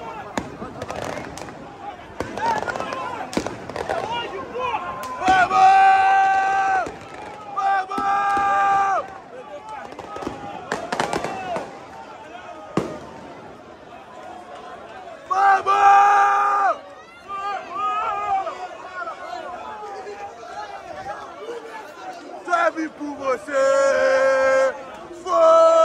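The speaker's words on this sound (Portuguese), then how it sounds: "Isso aqui é a torcida do Botafogo, rapaziada." Botafogo football fans cheering and chanting in a crowd at a Botafogo vs Palmeiras match reception, with loud surging shouts, fireworks bangs and firecracker pops, and a nearby voice calling out over the noise.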